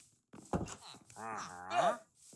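Minecraft cow mooing, a single drawn-out low bovine moo that rises and swells before fading, heard alone and close with a soft click or step just before it.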